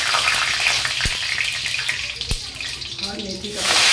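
Curry leaves and fenugreek seeds hit hot oil with a steady, loud sizzle and crackle that runs throughout, broken by a couple of sharp pops and a stirring clatter near the end.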